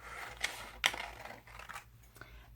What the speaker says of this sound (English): It's easier for me to cut them into pieces first.